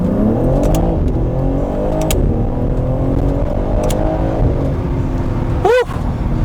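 A 2021 BMW G80 M3 engine revs hard through rising accelerations with quick shift breaks, loud and close, ending in a sharp rising whine.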